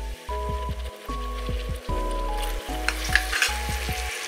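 Masala with crushed red chili and red tomato paste fries in a pan for mash ki daal, giving a loud, steady sizzle with stirring scrapes and a low steady hum in the background.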